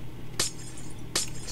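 Two sharp glassy shatter bursts, about three-quarters of a second apart, as glass blocks are broken in Minecraft, each a bright crisp crack over a faint steady game background.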